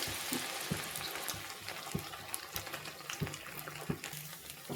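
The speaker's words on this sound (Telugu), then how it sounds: "ఇప్పుడు మనము దీన్ని ఆయిల్లో వేసేసుకుందాము వన్ బై వన్ ఇలా వన్ బై వన్ వడ వేసేసుకోవాలి" Leftover rice vadas deep frying in hot oil, a steady soft crackling hiss with a few louder pops and splashes as pieces are dropped in one by one.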